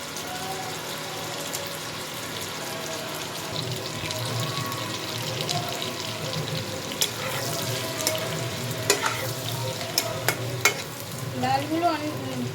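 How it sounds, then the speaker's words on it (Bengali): Potatoes fry in oil in a pan for dhaniya aloo, a constant soft sizzle with occasional scraping stirs and clinks close by, under quiet kitchen background noise. "আলুগুলো লাল করে ভেজে নিতে হবে।"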